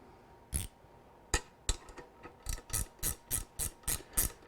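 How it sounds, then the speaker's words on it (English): A ratchet tightens the mounting bolts during a centrifugal supercharger install on a 1996-97 Thunderbird with the 4.6L engine, giving a close, steady run of rhythmic clicking bursts after a few scattered clicks. "And then we'll tighten up all these bolts."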